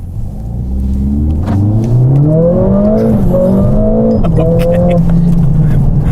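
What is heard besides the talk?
Mercedes-AMG car accelerating on a Nürburgring lap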